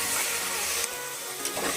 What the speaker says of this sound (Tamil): ஒரு கைத்துள்ளி புதினா இலை சேர்த்துக்கலாங்க. நல்லா வதக்கி விடலாம்.